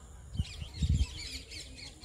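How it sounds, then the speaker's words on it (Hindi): Birds squawk and call outdoors a few times over soft ambient noise, with no talking. "मैं दो मिनट चुप होता हूँ ताकि आपको आसपास की वॉइस सुनाई दे पक्षियों की और जो थोड़ा सा शोर शराबा"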